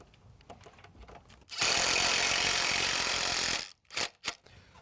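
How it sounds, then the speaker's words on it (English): Socket wrench with an 11 mm socket driving bolts during an egress window installation, heard as one steady loud whirring burst of about two seconds, followed by a couple of short sharp knocks. "11 millimeter sockets on the end of the socket wrench."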